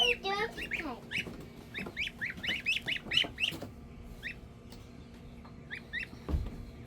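Geese on a porch, a flurry of rapid, overlapping honks and cackles nearby that thin out to a few scattered calls, with light household background noise.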